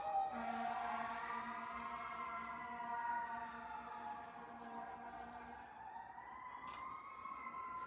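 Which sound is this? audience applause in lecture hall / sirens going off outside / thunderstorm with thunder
sirens going off outside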